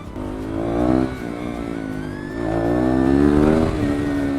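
A modified KTM 390 motorcycle engine hums loudly nearby at a fair, its revs swelling and easing in waves over a steady idle.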